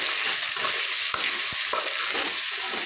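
Vegetable pieces with a spoonful of salt are stirred in a pot for sambar, making a close, steady sizzling hiss with a few sharp knocks of the spoon against the pot and no voices.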